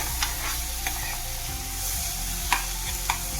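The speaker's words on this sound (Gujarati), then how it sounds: "કોથમીર અને લીલા મરચાંની પેસ્ટ નાખીશું બરોબર એને બરાબર અંદર મિક્સ કરી લઈશું" Coriander and green chilli paste sizzles in a pan over a gentle flame, with a soft, constant fry. A few sharp scrapes and clinks of stirring break through it, close by and with no talk.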